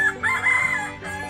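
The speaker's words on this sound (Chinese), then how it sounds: "还有公鸡。" A rooster crows once at a pond nature park, a short, clear, strained call heard fairly close, with no talk.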